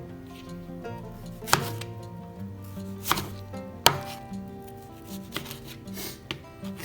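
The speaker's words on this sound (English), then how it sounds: "So with the tomato, just halve it." Soft knife cuts halving a tomato tap against a cutting board a few times, sparse and close, over a bed of quiet background music.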